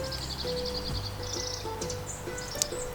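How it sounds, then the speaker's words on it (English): Birds chirp and sing faintly in an early spring garden, with short repeated calls over a low steady hum. "Just hear the birds."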